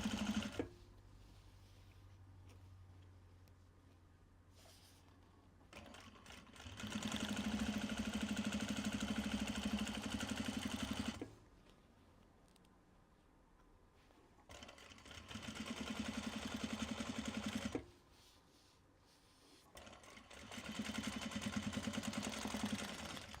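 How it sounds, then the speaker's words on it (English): Domestic sewing machine stitching quilt binding in three steady bursts of rapid, even whirring, each a few seconds long, separated by quiet pauses; fairly close and alone with no talk. "We stitched the binding on."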